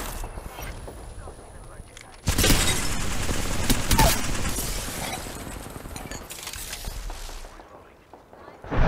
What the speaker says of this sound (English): They're shooting this way, bro.